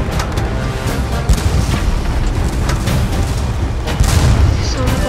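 Tank cannons boom repeatedly in the Battle Tanks video game, with loud blasts and a dense rumbling battle din, punctuated by sharper impacts near the start and end.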